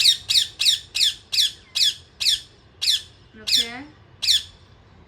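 A pet parrot gives a run of loud, harsh squawks in a steady repeating rhythm, about ten close calls with one longer warbling cry near the end, while a person speaks a word.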